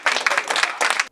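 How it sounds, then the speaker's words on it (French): A room of colloquium participants claps together in short, energetic bursts, loud and close, with brief dips between waves before stopping abruptly. "Donc je voulais vraiment qu'on commence par s'applaudir tous."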